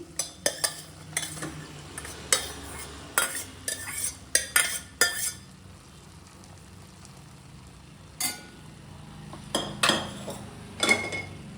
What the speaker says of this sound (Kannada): ಈಗ ನೋಡಿ, ಪುಳಿಯೋಗರೆ ಗೊಜ್ಜಿಗೆ ರೈಸ್ ಹಾಕೋತಾ ಇದ್ದೀನಿ